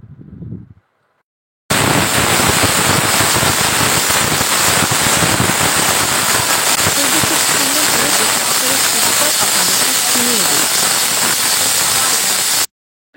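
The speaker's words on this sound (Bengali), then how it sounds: "খুব দ্রুত বেশ কিছু সিটি দেওয়ার পরে ওইটা প্রেশার কুকারটা বন্ধ করে দিয়ে ওইভাবেই ভাপে রেখে দিতে হবে" A pressure cooker vents steam through its whistle, a loud harsh hiss that bursts in after a brief bit of speech and holds steady for about eleven seconds before cutting off abruptly.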